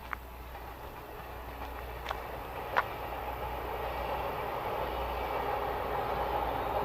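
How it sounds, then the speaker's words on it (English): A train rumbles past at a distance along the River Danube in Germany as a steady broad roar, with a few faint metallic clicks early on. "see if you can see the train going past."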